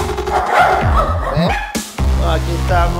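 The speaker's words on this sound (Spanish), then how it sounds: "No dejan de brincar, de ladrar. Los perros están ansiosos." Anxious Silky Terriers bark and yip in a chaotic home, several sharp barks close by, mixed with whimpering and some voices.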